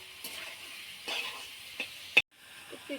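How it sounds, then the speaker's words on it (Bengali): Beef tripe frying in a pan while being stirred, with a faint steady sizzle and several short scraping strokes of a utensil, ending in one sharp clack and a brief drop to quiet. "বুড়িটা আমি ভালোভাবে ভাজা নেবো"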